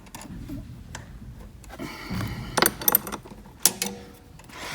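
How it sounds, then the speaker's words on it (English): A 14 mm wrench loosening nuts on the steering of a 1300 W electric ATV, quiet metallic ratcheting and a few sharp clicks and taps close by. "First thing you gotta do, you just gotta loosen off these nuts."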